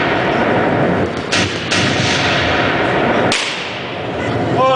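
A tank cannon fires at latrines on a field, a loud, close blast that cuts off a dense rumbling roar, followed by quieter rumble.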